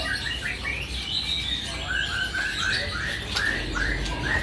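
A brown cililin bird in a bird market repeats quick, bright, loud chirping phrases over steady background hiss and chatter, fairly close and continuous.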